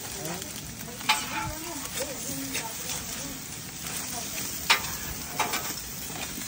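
Food, including eggplant, sizzles steadily on a barbecue grill at a friend's house, a continuous hiss with occasional sharper pops, while people chat nearby throughout.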